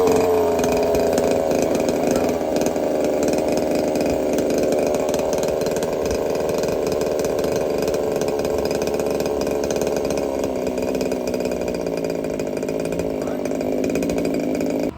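The small gas engine of a Redcat Rampage XT 1/5 scale RC truck runs nonstop, close and loud, with a buzzing, chainsaw-like drone that stays fairly even throughout.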